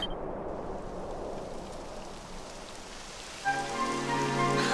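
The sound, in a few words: rain falling in the video game Dragon Quest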